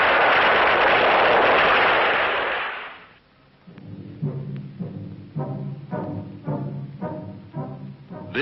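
A missile impact at White Sands Missile Range: a long, loud, roaring blast rumbles for about three seconds, then dies away into quieter, rhythmic mechanical pulsing.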